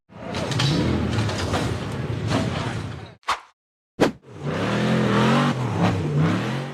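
A blue off-road buggy engine roars and revs hard while charging up a steep, rocky dirt slope, loud and close, briefly cutting out in two short gaps before the throttle surges back.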